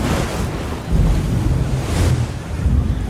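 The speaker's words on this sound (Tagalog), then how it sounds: "Yung hampas ng alon o yung malakas na ihip ng hangin?" Loud waves surge and wash nearby while strong wind buffets the microphone, making a constant roaring rumble with no voices.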